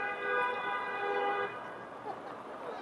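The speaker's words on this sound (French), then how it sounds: "Et des klaxons." A car horn blares on a busy Toronto street, a long sustained tonal honk lasting over a second before cutting off, with street noise and faint voices around it.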